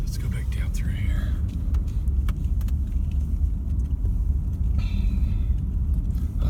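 A Posi-Track tracked loader grinds through deep snow drifts during a snowstorm, a loud continuous low engine rumble filling the whole stretch, with a voice speaking quietly over it.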